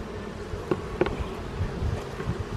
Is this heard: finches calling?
no